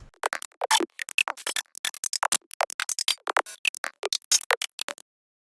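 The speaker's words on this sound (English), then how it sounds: "except maybe those clicks up there that I made." Stereo-wide clicks built from hi-hat samples in an electronic track, a rapid irregular stream of short, crisp ticks alone and fairly quiet before stopping.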